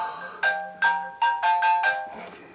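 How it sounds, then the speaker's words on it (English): A telephone ringtone chimes in repeated bursts, about six tonal rings in quick succession, fairly loud and close, with no talk over it. "Always a phone call while I'm making a video."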